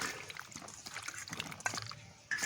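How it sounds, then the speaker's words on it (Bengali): Pointed gourds washed by hand in a bowl of water, soft close sloshing and trickling with small rubbing and dripping sounds, fairly quiet. "পটলটা এইভাবে ছালটাকে ভালো করে পরিষ্কার করে ধুয়ে নিতে হবে"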